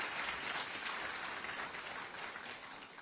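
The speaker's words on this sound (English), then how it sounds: "Give them another round of applause." Applause for the Riverside fire department pipe and drum band at a 9/11 remembrance ceremony: a soft, distant-sounding patter of clapping from an outdoor crowd, tapering slightly toward the end.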